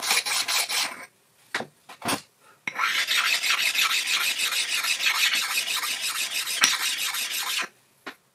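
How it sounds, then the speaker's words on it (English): Diamond stones rasp against the bare metal slideways of a CJ0618 7x12 lathe: a few short scraping strokes, then one long, steady, close-up grinding rub that stops abruptly, then a final brief stroke. "the sound of the stone changes to a softer sliding tone"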